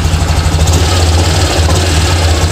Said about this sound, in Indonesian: Nah, ini motor hidup ya.